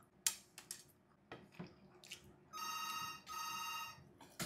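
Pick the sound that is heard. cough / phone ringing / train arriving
phone ringing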